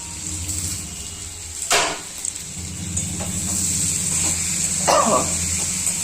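Tomato sautéing in a pan gives a steady close sizzle with a few sharp clatters and scrapes of a utensil partway through, and no talk.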